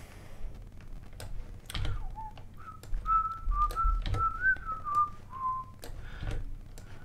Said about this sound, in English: While singing, whistling.